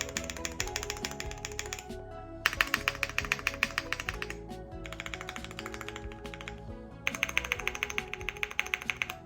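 Fast, steady typing on a budget mechanical keyboard kit with stock stabilizers, close and crisp clacking in quick bursts separated by brief pauses.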